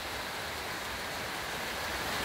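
Steady rain hisses on a roof during a thunderstorm, an even, continuous wash of noise with no voices.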